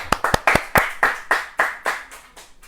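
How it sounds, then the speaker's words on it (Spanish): A church congregation claps in a loose, steady rhythm, about a dozen sharp nearby claps, each one fading before the next, with no talk on top. "Un aplauso a Cristo."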